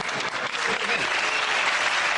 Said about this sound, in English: It's interesting to hear exactly half the audience applaud.